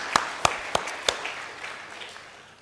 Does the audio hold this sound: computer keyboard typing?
no